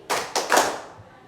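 Three quick hand claps in a short rhythm from children playing an ice-breaking clap game in a school classroom, crisp and close, the last one ringing out briefly.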